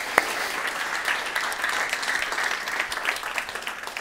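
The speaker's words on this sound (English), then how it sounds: "So let's give a huge applause for that." Applause from an audience at a live interview event, a continuous, even crackle of many hands clapping at moderate loudness, uninterrupted by speech.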